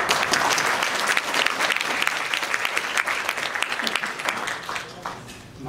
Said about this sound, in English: we should give them a round of applause first